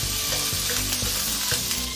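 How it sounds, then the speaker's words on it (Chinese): Scallion, ginger and garlic hitting hot oil in a wok, a loud continuous sizzle with rhythmic scraping strokes of stirring about every half second, no talking. "开火，来点油，葱姜蒜爆香"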